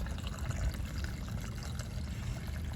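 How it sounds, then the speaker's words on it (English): Water pours into an RV tank, heard as a low, steady gushing rush with a bubbly, churning texture that stays even throughout the short stretch. "I sure hope this water I'm putting in is clean water."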